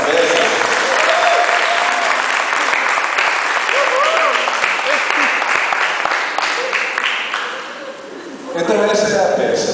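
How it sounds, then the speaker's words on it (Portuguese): Sustained applause from an audience after a church play about the parable of the sower, dense clapping that fades toward the end before a brief swell, with voices and cheering mixed in. "Aplausos para a peça."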